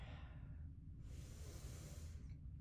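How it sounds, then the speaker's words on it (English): Steady breathing through the nose while standing in yoga mountain pose, a soft airy hiss of one inhale and exhale close to the microphone over a low room rumble, with no speech. "Take a few steady inhales and exhales through the nose, the mouth."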